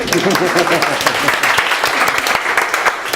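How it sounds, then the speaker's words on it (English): Audience at a creativity workshop breaks into a round of applause, loud and sustained clapping throughout with some voices under it. "Anybody else want a round of applause?"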